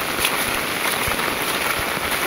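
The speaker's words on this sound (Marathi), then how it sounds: "कुठे पण पाऊस काय कमी होत नाही" Heavy rain pours steadily over a village in the Konkan, a dense, even hiss of drops on surfaces with a few soft thuds, and no voices.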